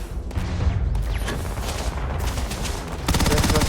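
A turret firing in the video game Starfield, set on Mars: a loud, sustained rattle of rapid automatic shots with booming low impacts, growing into a sharper, tightly spaced burst toward the end.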